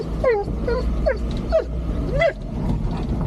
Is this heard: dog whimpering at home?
yes